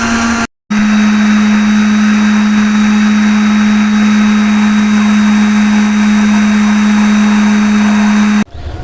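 An electric blender jug churns a mango ice cream base with a loud, steady motor whine that cuts out briefly near the start, then runs on unbroken before stopping at the end.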